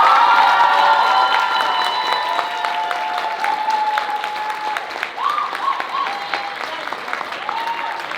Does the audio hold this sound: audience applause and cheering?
yes